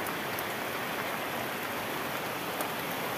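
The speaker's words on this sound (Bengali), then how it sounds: "এখন বৃষ্টি হচ্ছে, হয়েই যাচ্ছে বৃষ্টি" Steady rain pours down in a dense, even hiss that stays constant throughout, with occasional louder drops standing out against the wash.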